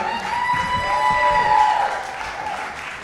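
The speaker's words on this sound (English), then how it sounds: "Round of applause." Steady clapping from a crowd at an evening gala fills the space, a dense even patter with a few faint tonal sounds over it, continuing throughout.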